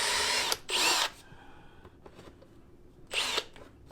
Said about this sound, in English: I'll drill it a little more, see what happens.